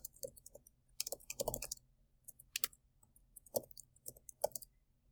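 Irregular clicks from a computer keyboard as instructions are typed in, quiet and close, with short bursts of keystrokes separated by brief pauses.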